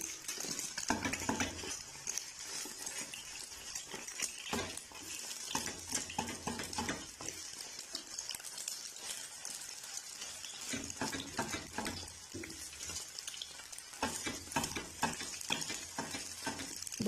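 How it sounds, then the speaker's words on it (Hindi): An egg frying in a pan sizzles steadily while a spoon scrapes and stirs through it, breaking it into large pieces for anda chingari, with close clinks of metal on the pan throughout. "अभी आस्ता आस्ता चम्मच की मदद से इसे जो है तोड़ लेंगे।"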